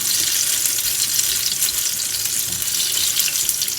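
Banana fritters fry in oil on medium heat, a loud steady sizzle and crackle that runs continuously and close up.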